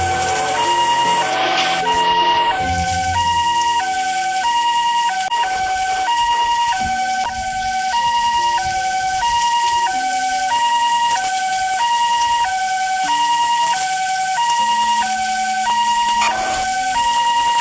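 Ambulance siren wailing loud and close in a steady repeating two-tone cycle, running throughout without interruption.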